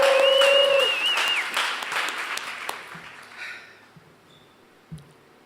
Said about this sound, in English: I just want to give it some round of applause for everybody in here in Oakland.